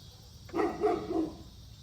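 Dogs bark indoors in a short burst of three or four close, mid-pitched barks, with no talk over them.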